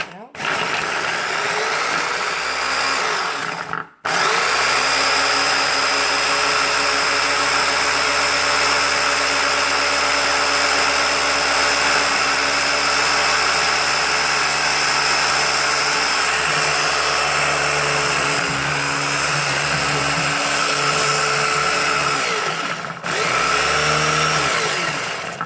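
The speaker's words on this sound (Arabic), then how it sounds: "هيك في الخلاط الكهربائي." A steady electric blender motor whirs loudly and continuously, briefly cut off near the start and restarted, with a faint voice underneath at times.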